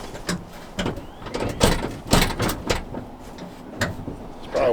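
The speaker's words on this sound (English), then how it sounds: "See if you can get that door open, Junior." An old loaded Mopar car's stuck door being yanked and pried at, producing a series of irregular metallic clunks, scrapes and creaks, loud and close, with short pauses between attempts.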